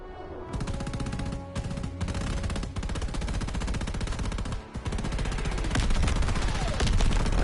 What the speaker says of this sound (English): Why are they shooting all those people?